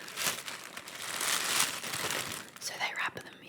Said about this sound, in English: So they wrap them in crinkly tissue paper.